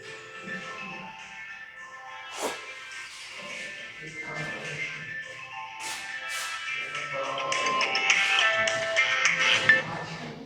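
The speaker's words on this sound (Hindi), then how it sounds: "लाओ जरा किसका फोन उठा दो," A mobile phone ringtone goes off during a classroom lecture, its melodic tones repeating and growing louder toward the end, with people talking over it.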